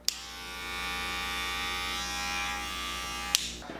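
Wahl Magic Clip Metal Edition cordless hair clippers switch on with a click and hold a steady, fairly quiet electric buzz, then click off, leaving only faint room noise.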